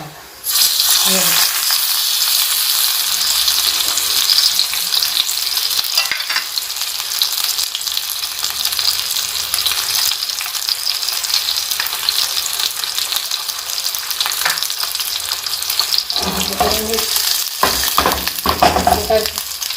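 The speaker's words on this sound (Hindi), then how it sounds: "2 में मैं इसको साते करूँगी" Steamed chicken tikka pieces sautéing in a pan for biryani, a loud steady sizzle and fry with occasional stirring and scraping near the end, no talking.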